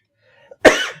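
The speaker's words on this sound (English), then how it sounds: "this cough will not go away." A single sharp, close cough bursts out after a faint throat noise, loud and brief, then trails off quickly into silence.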